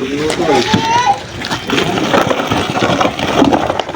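Splashing and sloshing water as freshly caught catfish are washed, with brief irregular splashes under close talking and a voice.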